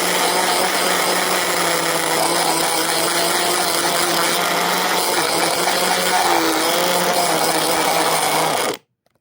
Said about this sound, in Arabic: واشغل بقى عليه الخلاط